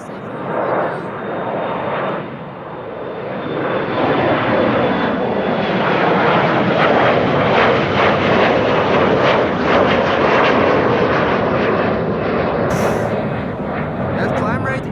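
An airliner takes off at Amsterdam Schiphol Airport, a loud roaring jet engine rumble that swells and holds steady for the whole stretch, with voices talking faintly over it.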